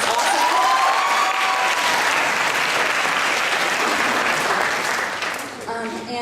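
Loud audience applause at a talent night fills the space, a dense wash of clapping that holds steady before tapering slightly at the end.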